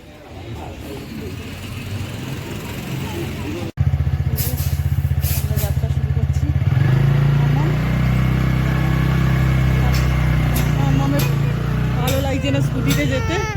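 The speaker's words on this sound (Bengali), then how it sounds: "আজকের অন্য বাইকে যাব, স্কুটিতে যাব।" A scooter rides along a road in Bangalore, its low engine drone steady and close after a sudden cut, with passing traffic noise and voices around it.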